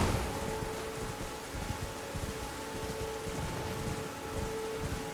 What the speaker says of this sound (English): Oh, it started raining.